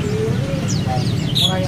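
Caged birds at a bird shop give thin chirps, whistles and rising calls over a constant busy background hum, with several birds calling at once.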